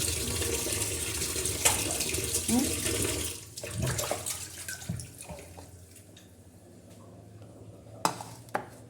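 Running tap water splashes over raw chicken being rinsed in a kitchen sink, loud at first and then quieter and more trickling, with stirring and handling noises and a few sharp knocks near the end.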